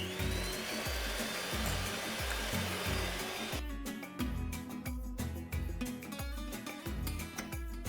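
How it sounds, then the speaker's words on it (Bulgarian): Electric mixer beating eggs with walnuts into a foam for a French baklava filling, a loud steady close whirring drone with rhythmic low thumps as the beaters knock the bowl, no speech. "Най-лесно ще стане с миксер, пък и най-бързо. И разбивам докато се получи пяна."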